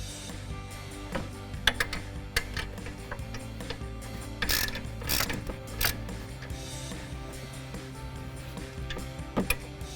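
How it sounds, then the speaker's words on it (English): A ratchet with an 18mm socket tightening bolts while fitting a brake rotor, pad and caliper kit on a 2012-2020 Dodge Charger, heard as rapid close clicking in bursts over a low steady hum, with no talk. "Now we'll tighten them down with our 18mm socket."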